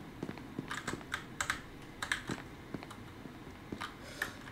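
Quiet, close taps on a computer keyboard come in uneven bursts of clicks with short pauses, as a command is typed.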